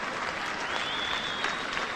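A rugby league crowd at Odsal roars and applauds steadily in a Yorkshire v Lancashire match, a dense, continuous wash of cheering with a faint whistle-like tone rising through it.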